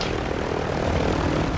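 Helicopter in the video game Warzone 2, a steady close droning engine and rotor roar that fills the moment without breaks, loud and alone with no talk over it.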